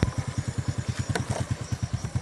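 A motorcycle engine idles while being parked, a close, loud, rapid and even chugging pulse with a slight clatter.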